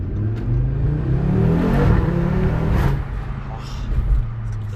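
A 2024 Audi RS3 8Y is driven at full throttle, its engine giving a loud, close, sustained drone that swells and holds across the pull with only slight dips.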